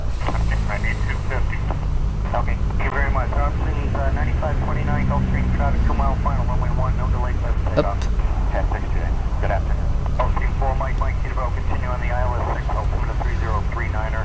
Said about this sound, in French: je vais je vais refaire un petit petit décollage